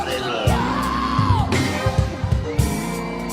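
Audience at a live quartet gospel singing event yelling and whooping in a loud, sustained crowd roar, with individual shouts rising above a band and a singing voice.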